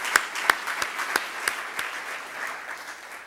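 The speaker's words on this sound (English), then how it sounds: "deserve a great round of applause for that fact" A handful of sharp, separate claps at a 2011 Tustin State of the City address, thanking city staff, thinning into soft scattered applause in a reverberant hall.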